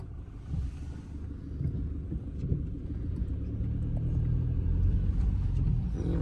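Low, steady rumble of road traffic in Ishikawa, Japan, after an earthquake, with passing cars heard from a distance, growing slightly louder and continuous throughout, with no voices.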